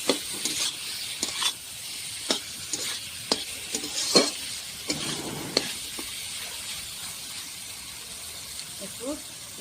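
Spices for a dried fish and hilsa curry sizzle and fry in a pan, with sharp stirring scrapes recurring every second or so under a constant hiss.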